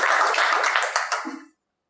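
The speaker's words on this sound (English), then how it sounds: "Can we give a big applause to him?" Applause from a seated audience at a live vision-game group session, a dense burst of clapping that holds steady before thinning and stopping abruptly after about a second and a half, followed by silence.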